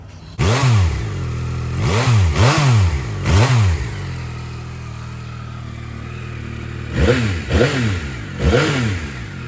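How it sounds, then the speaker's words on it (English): A Yamaha R9 motorcycle starts cold before the full exhaust is fitted, revving loudly in three sharp throttle blips, idling in between, then blipping three more times, close and with no talking. "I'm gonna throw in here the cold start video before we fully put on the exhaust."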